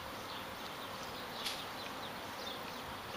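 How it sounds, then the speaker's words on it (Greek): A freshly emerged honeybee swarm buzzing near a hive, a dense, steady hum of many bees heard faintly at a distance with no talk. "Πιάσουμε ένα καινούργιο μελίσι που έγινε τώρα."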